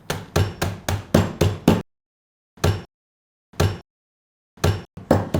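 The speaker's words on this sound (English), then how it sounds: "crush them with this hammer." A hammer crushes Oreo cookies in a sealed bag with repeated hard blows, a fast burst of several strikes, then a few spaced single hits with silence between, and a final quick cluster.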